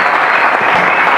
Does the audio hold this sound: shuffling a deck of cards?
no